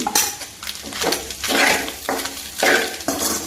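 A spoon scraping and clanking against a pan while spiced mutton blood fry is stirred, in repeated rhythmic strokes with a faint sizzle underneath, close and fairly loud with no talking.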